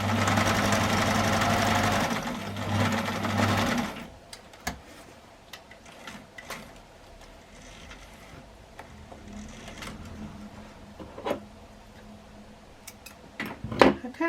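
Sewing machine stitching a crossbody shoulder bag, a loud steady whirring burst for about four seconds with a short pause, then quieter handling clicks and rustles.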